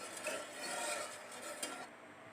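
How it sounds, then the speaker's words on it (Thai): Butterfly pea coconut jelly mixture is stirred in a pot over medium heat, making soft, continuous scraping and swishing that stays faint and close. "ก็จะค้นไปค่ะ ค้นไปเรื่อยๆ ต้มไปเรื่อยๆ จนว่าสุก"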